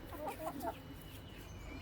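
Soft clucking from chickens nearby, a few short clucks early on, then quieter background noise.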